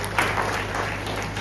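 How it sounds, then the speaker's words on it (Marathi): Hall audience of a few hundred people applauding steadily, a dense, even wash of clapping that carries on throughout. "एकदा जोरदार टाळ्या बनवणार याच्यासाठी."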